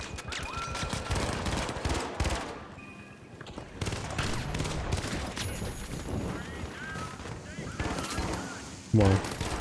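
Rapid, dense gunfire bursts from the video game The Finals, including shotgun blasts, crackle throughout amid chaotic in-game effects, with a voice speaking at times.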